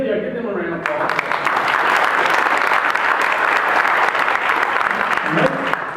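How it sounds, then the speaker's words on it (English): Audience at a community prayer breakfast in Davidson County giving a round of applause, loud dense clapping from a full room, sustained for several seconds after a voice at the start. "Go ahead and give them a round of applause."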